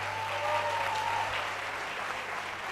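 A hall full of people at a nursing induction ceremony claps steadily for the valedictorian, a dense, even wash of applause held for the whole stretch.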